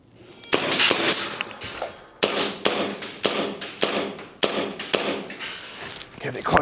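Tokyo Marui airsoft pistols, including a 1911, USP Compact and Gen 5, fire at small targets, giving a steady string of sharp, close pops about every half second, with a voice talking between shots.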